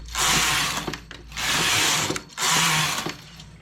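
Domestic knitting machine carriage running across six rows of fairly thick 235 tex yarn at tension setting 8, three long mechanical whirring passes close by, each a steady broad rush with brief pauses between.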